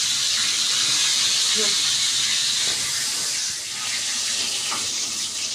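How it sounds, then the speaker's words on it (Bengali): Pangas fish frying in a pan gives a steady, bright sizzling hiss that continues close and fairly loud throughout, with small rises and dips in intensity. "অবশেষে আমার মাছটা ভাজা হয়ে গেছে"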